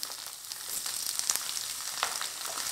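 Black cumin seeds fry in hot oil for a homemade garlic pickle, giving a soft, continuous sizzle with small crackling pops, close and steady with no talking.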